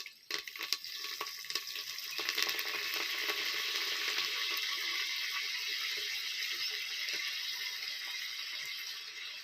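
Curry leaves and coriander crackle in hot tempering oil for a kothamalli rice, a steady dense hiss that swells after a few scattered pops at the start and holds close and loud to the end.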